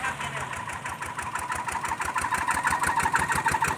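A modified ride-on tractor's engine runs steadily nearby with a fast, even chugging knock that grows slightly louder, while someone talks faintly over it.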